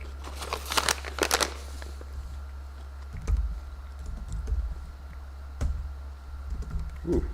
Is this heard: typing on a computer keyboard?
yes